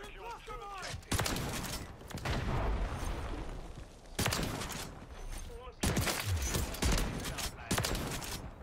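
Repeated shotgun blasts in Call of Duty: Modern Warfare III, several loud sharp bursts with sustained rumbling gunfire and explosions between them, a voice briefly audible at the start.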